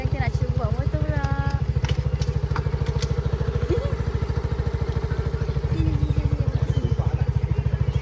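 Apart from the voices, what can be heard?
motorcycle being ridden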